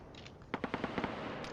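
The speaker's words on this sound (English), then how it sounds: "They are, however, taking heavy fire, probably from some of these other vehicles" Rapid burst of gunfire in the video game Arma 3 during a convoy firefight: about six quick, evenly spaced shots following a quiet stretch, fairly faint and distant-sounding, with one more crack at the end.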